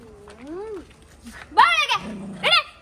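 A dog whines and yelps in a few short, high cries, close by, with some rustling between them.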